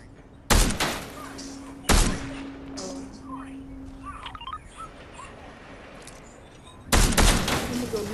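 Gunfire in a video game: a few sharp, loud shots spaced seconds apart, each followed by a short echoing tail, with quieter game ambience between them.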